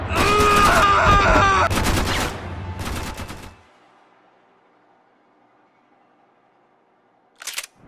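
Loud, dense bursts of gunfire in Max Payne 3 hammer out in several rapid volleys, then cut to near silence before a brief final burst near the end.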